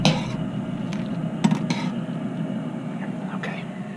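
Fresh gnocchi are stirred in a pot of boiling water, a utensil clinking sharply against the pot a few times over a steady bubbling hiss, close up.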